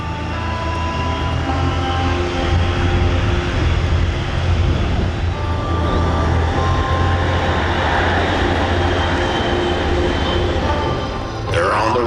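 Blue Angels jets taxi along the runway at the Miramar airshow, a steady loud engine roar with a deep low rumble and high whine sustained throughout, a brief higher swell near the end.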